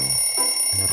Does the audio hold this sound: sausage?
no